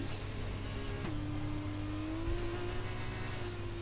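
A Formula 2 race car engine in a racing video game drones steadily at high revs while the pitch climbs gradually as the car accelerates out of a corner.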